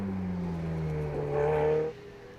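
Ferrari Challenge race car lapping the Circuit of the Americas during a Trofeo Pirelli race, its engine droning steadily with a shifting pitch, swelling louder as it nears and then dropping off abruptly.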